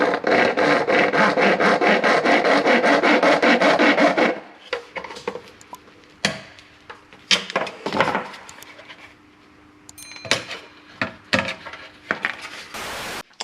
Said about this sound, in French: maintenant, on va s'occuper de la découpe.